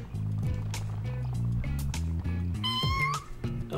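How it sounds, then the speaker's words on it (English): A cat meows in the No More Heroes video game, a short rising cry near the end over steady background game music. "I love how Travis has a kitty"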